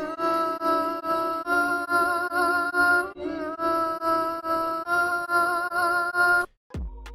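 A chopped music sample loops in FL Studio as the base of a beat: sustained tonal chords repeat in short, even segments, with no voices, before cutting off abruptly near the end.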